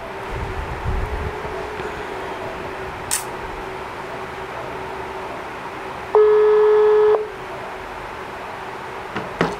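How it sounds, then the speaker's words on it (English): A single ringback tone on an outgoing phone call, one steady buzzing pulse about a second long sounding through a quiet room with low background hum. "So it's ringing."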